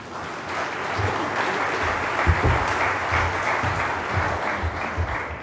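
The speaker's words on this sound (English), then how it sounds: "And why not a round of applause?" A conference audience at an energy summit panel gives a steady round of applause, continuous dense clapping throughout with a few louder individual claps standing out.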